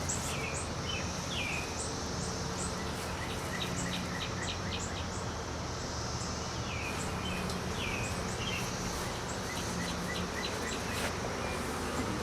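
Dense, steady buzzing of many honey bees close up on a comb frame during queen grafting, with bird chirps in the background.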